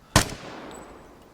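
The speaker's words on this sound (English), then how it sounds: "the L85 has fantastic bullet velocity. So I aimed a bit higher than what I should have, and the bullet flew right over his head" A single loud crack from an L85 rifle in the game Vigor, fired once near the start and trailing off into a faint, fading echo.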